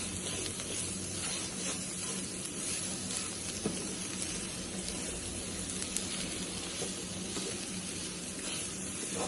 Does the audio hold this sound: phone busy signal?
no